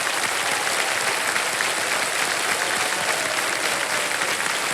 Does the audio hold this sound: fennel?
no